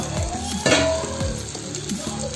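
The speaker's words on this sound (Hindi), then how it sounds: "अब हमें इसे अच्छे से फ्राई करना है।" Rice sizzles in a pan for paneer veg biryani, a close, steady frying hiss broken by several stirring scrapes and light clinks of a utensil against the pan.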